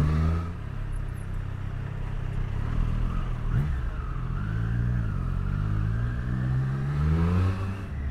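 A 2023 Triumph Street Triple 765 RS naked motorcycle accelerates in first gear at fairly low revs, its engine note rising and falling in smooth sweeps as the throttle is worked, close and steady throughout.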